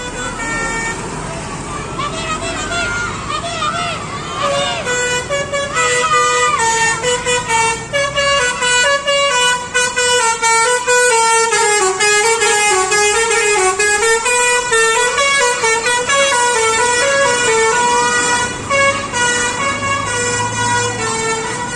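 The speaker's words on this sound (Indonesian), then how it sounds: "Kali ini ada bus Harapan Jaya teman-teman." A Harapan Jaya bus passes close by, its loud musical multi-tone horn playing a long melodic tune almost continuously over the engine noise.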